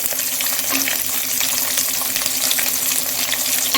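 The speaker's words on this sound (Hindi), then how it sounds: "और इसे भी अच्छे से भूनेंगे, लाइट ब्राउन होने तक इसे भूनेंगे" Thinly sliced medium onion frying in oil with spices in a pan for vegetable pulao, a steady, loud, dense sizzle and crackle that runs throughout, with no speech.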